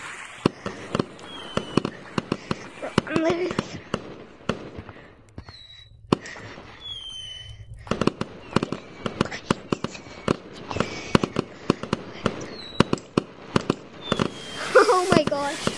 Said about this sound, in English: There's a fireworks show!